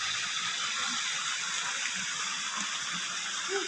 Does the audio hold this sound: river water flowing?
yes